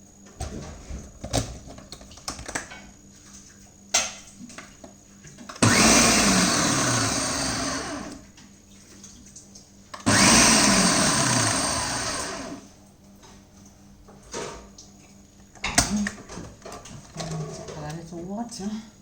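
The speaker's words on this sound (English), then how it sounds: "So now I am going to close my blender and I'm going to whip and then I'm going to" A blender whirs loudly while blending Jamaican fruit juice, in two bursts of a few seconds each, with a person talking and light clatter before, between and after.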